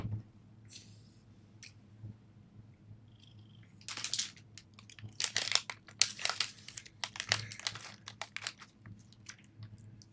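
Rustling and crinkling of a plastic bag of cat treats, in bursts of crackly handling over a low steady hum, with a faint meow early on.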